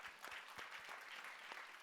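An audience at a World Food Day 2025 event claps for a speaker. The applause is soft and distant, a continuous wash of many hands with a few sharper claps standing out, and no talking over it.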